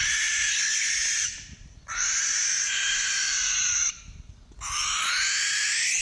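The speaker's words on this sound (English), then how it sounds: "But you won't find an outburst that's more to blame for mental anguish than the banshee-coated barn owl." Barn owl screeches, two long harsh rasping shrieks separated by short pauses, loud and close, with no voices.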